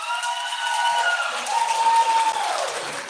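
An audience applauding steadily for about three seconds at a Thai school singing contest, with a sustained ringing tone running beneath the clapping.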